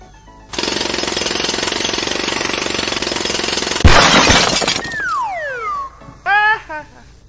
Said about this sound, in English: this is the jackhammer, a powerful tool for breaking through tough surfaces.